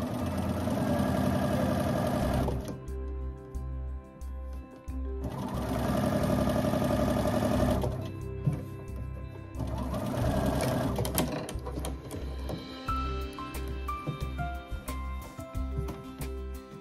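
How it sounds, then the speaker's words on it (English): A sewing machine stitches quilt seams, its needle chattering in three sustained runs separated by brief pauses, close up and fairly loud. "Go ahead and sew it."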